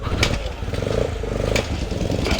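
A homemade motorcycle starts up for a ride, its engine running with a rapid low putter and a couple of sharp revs, close and loud.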